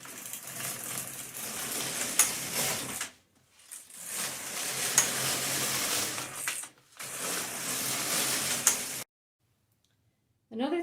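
A knitting machine carriage is pushed across rows in separate passes, each a rattling mechanical whir with faint clicks, three runs split by short pauses and then silence.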